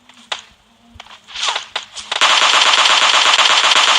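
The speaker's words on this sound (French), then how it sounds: "il y a d'autres tirs en face de moi" Gunfire in the PUBG video game: a few scattered single shots and footsteps give way to a sustained, loud burst of rapid automatic fire, with no talking over it.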